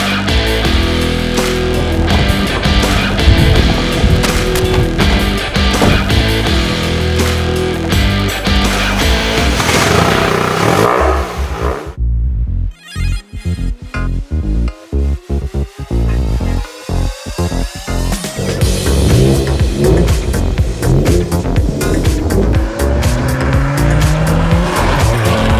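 A Toyota Yaris GR with all-wheel drive, driven hard, revving loudly with repeated tire squeals and skids. The engine climbs and drops through gear changes, close and dominant, with a brief lull midway.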